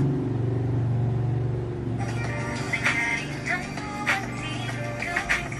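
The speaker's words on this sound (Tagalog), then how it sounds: "Ang ingay ng tricycle." A motor tricycle's engine rumbles loudly and close, then recedes as it passes. Scattered higher sounds and street noise follow under a continuous low drone.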